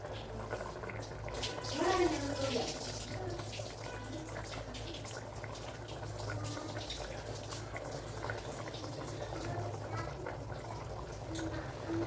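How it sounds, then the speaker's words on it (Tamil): Water bubbles and simmers steadily in a pot of cooking chicken biryani, a soft continuous burble with low background hum. "தண்ணி நல்லா கொதிக்குது"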